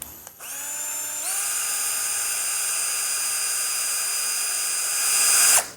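A Tekiro CD-HD2047 12V cordless hammer drill spins up at speed 1 to a steady high-pitched whine. It runs loud and close for several seconds, then rises briefly and cuts off.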